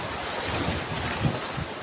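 Big ocean waves on Burias Island, driven by the northeast monsoon, surge and crash in a continuous roar, with gusty wind rushing across the microphone.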